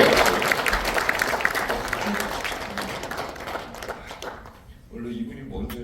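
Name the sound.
audience applause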